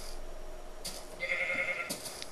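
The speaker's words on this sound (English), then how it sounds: "Shut up, sheep." A Minecraft sheep bleating, two or three short nasal bleats at moderate distance over a quiet background hum, with no talking during the clip.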